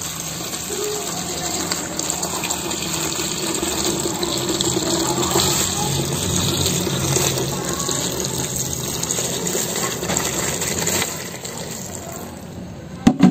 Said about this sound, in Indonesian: Kemudian kita isi dengan menggunakan air.